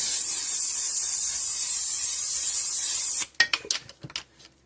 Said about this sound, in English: And then we're going to spray in cooking spray.